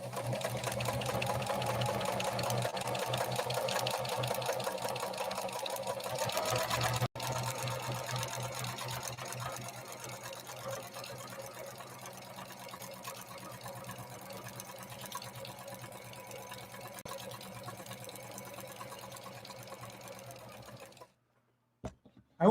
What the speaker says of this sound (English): I only had the foot controller down probably about a quarter of the way. And this machine is definitely not sluggish anymore.